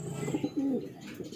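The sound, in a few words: pigeon cooing returning to the loft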